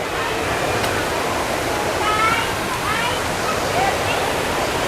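Steady roar of Phlio Waterfall in Thailand fills the scene, a constant rushing wash of water with faint voices and brief chirps underneath.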